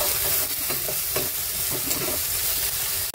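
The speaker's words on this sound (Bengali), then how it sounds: "হলুদ, লঙ্কার গুঁড়ো দিয়ে নাড়াচাড়া দিতে হবে ভালো করে।" Potatoes stirred in a pan with turmeric and chili powder for a chana dal dish, an even, loud sizzle with repeated spatula scrapes and soft knocks throughout.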